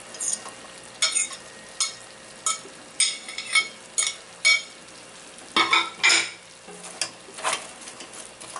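Chicken with tomato, onion and parsley is stirred in a sizzling pan, a spoon scraping in a run of distinct, fairly regular strokes over a soft constant fry, with no talking.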